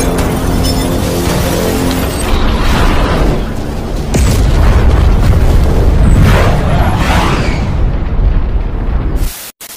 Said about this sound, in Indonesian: Aing tidak berhasil lolos di tengah ledakan dahsyat pesawat tempur Amerika